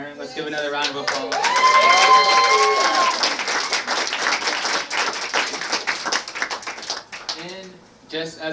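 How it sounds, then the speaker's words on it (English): An audience claps for a speaker at an October Revolution centenary program in New York City, a sustained burst of room applause that swells and holds for several seconds, with a voice speaking over it at the start and end. "Let's give another round of applause."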